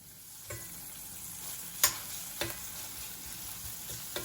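Dried mulberries frying in oil in a pan give a soft, steady sizzle, broken by a few sharp clicks and taps of stirring. No voices.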